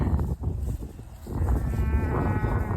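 Cattle on a ranch, a cow with her newborn calf: several bleating, moo-like calls close by, one short call then a longer drawn-out one, with no talk.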